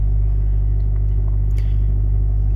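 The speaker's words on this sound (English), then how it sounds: "If you can hear the car in the background, I'm sorry." A steady low engine rumble from a car in the background at 4 a.m., continuous and droning without any change in pace.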